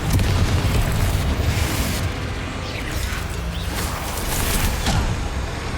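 Confringo fire spell exploding in Hogwarts Legacy: a dense, roaring blast and rumble that fills the whole stretch, with crackling debris and whooshing effects layered over a continuous loud wash.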